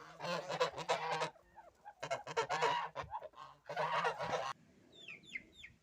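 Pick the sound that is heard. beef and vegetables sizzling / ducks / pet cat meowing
ducks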